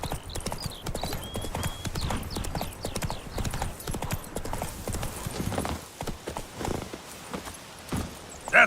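The horse Roach in The Witcher 3, its hooves clip-clopping in a quick, regular trotting rhythm close by, with a brief whinny early on and a voice speaking over the hoofbeats.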